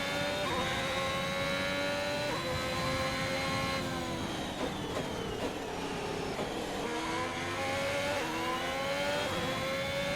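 A Formula 1 car in F1 2021 races around the track with a steady, loud, high-pitched engine whine that rises and falls through gear changes, heard alone without talk.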